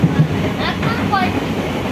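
A local train runs near Gede and Harishnagar stations on the Indian side of the border, giving a close, steady rumble of carriages in motion. Faint voices sit under the noise throughout the short stretch.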